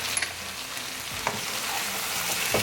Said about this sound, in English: Mix it well again.